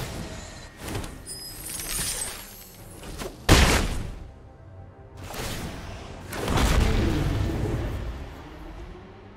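Booming explosion effects from the card game MTG Arena in a Historic Brawl match, several heavy thuds and blasts spread irregularly across the stretch, loud and close against a busy game-sound backdrop.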